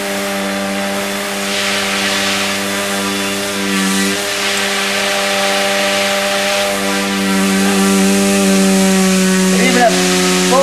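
An electric helicopter tail rotor motor spins at 5,000 RPM, giving a loud, steady, close-up whine rich in layered harmonic tones with a slight rise in intensity toward the end.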